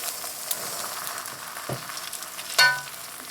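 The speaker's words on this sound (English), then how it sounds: "you see it start to smoke? Now it's time to put the eggs in." Eggs fry in a hot, seasoned wok with a steady broadband sizzle, followed by a short scrape and then a sharper, louder crackling burst near the end.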